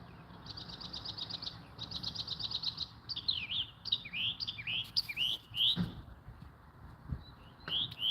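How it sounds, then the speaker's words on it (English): Birds singing outdoors under trees, rapid trilled phrases followed by sweeping whistled chirps, clear and fairly close over a faint background rumble, with no talking. "You hear the birds singing?"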